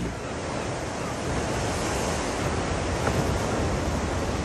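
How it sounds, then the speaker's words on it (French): Waves crash steadily along the North Atlantic coast, a dense, continuous roar of surf mixed with wind buffeting the microphone, loud and close with no pauses. "Le littoral de l'Atlantique Nord, battu par les vagues"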